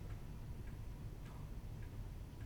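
A grandfather clock ticks faintly in a room, a steady slow beat of soft clicks under a constant low background hum with no talking.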